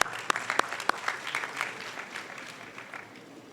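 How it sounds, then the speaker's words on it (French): An audience claps warmly at a school awards ceremony in Dakar, opening with a few sharp individual claps that build into steady applause, which gradually fades. "permettez-moi de vous applaudir chaleureusement"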